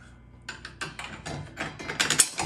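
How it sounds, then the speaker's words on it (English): Wrenches tighten the blade arbor nut on a RIDGID R4520 contractor table saw, giving a run of close metallic clicks and ratcheting clatter that grows busier and louder toward the end. "So you need 2 wrenches to put the blade on."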